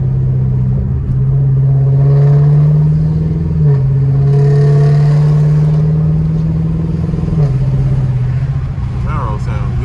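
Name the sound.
Chevrolet Camaro engine and exhaust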